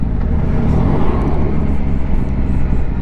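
A steady, loud blend of engine drone and rushing wind comes from a 2023 Yamaha Tracer 9 GT touring motorcycle cruising along with cruise control engaged, continuous and close throughout.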